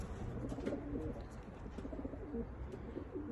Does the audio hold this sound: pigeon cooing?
yes